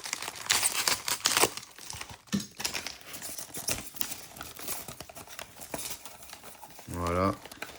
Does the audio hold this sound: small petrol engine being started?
no